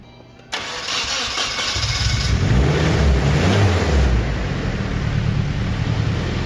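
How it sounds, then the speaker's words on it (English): A Nissan 240SX's rebuilt, turbocharged engine cranks and catches on its first start, then settles into a loud, steady, rumbling idle with low throbbing pulses, close by and alone. "I was able to start the car for the first time since rebuilding and turbocharging the engine."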